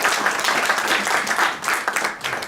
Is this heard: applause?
yes